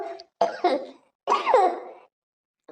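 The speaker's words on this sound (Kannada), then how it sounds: "ನೆಗಡಿ ಕೆಮ್ಮು ಜೋ ಸ್ಟಾರ್ಟ್ ಆಯ್ತು ನನಗೆ" Close, harsh coughing in a few separate bursts with short pauses between them, and no talking.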